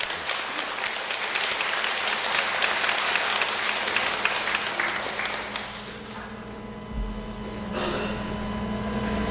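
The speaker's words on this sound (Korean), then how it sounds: "뜨거운 감사의 박수로 환영해 주십시오" Warm applause from a church congregation welcoming a guest speaker on mission work, loud dense clapping that fades after about six seconds into quieter scattered claps and room sound.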